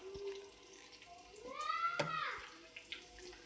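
Water pours into a cooking pot of morkuzhambu, a yogurt-based curry, making a short, close gurgling splash in the middle of a quiet kitchen, with a faint voice nearby.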